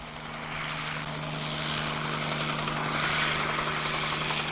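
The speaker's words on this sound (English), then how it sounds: "We've got another chopper coming in now with another bucket." A firefighting helicopter carrying a water bucket approaches over a wildfire, its rotor and engine roar growing steadily louder and holding as a dense continuous drone with a steady low hum.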